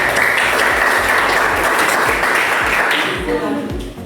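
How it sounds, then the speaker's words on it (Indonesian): A room full of people breaks into loud, steady applause that starts strong and fades slightly toward the end. "kita beri tepuk tangan dulu untuk kelompok 1"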